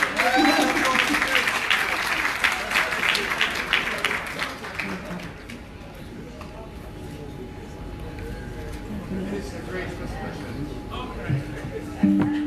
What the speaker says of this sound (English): Keep clapping, keep clapping, keep clapping, keep clapping.